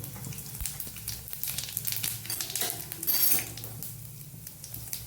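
Cumin seeds go into hot oil for a Kathiyawadi bhinda (okra) gravy tempering, bringing a soft sizzle along with a few clinks of a spoon against the pan, close by and fairly quiet.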